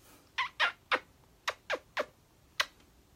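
A cat gives seven short, sharp meows in an irregular series, close and clear against a quiet room.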